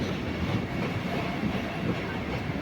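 Steady low rumble and rattle of a special train rolling slowly into Kochuveli railway station, Thiruvananthapuram, a continuous rolling noise heard from inside or close by.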